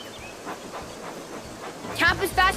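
Train engines in a kids' video game chug along with soft rhythmic puffs and rail clatter, then louder bursts of game effects and chimes toward the end, with a voice speaking over it.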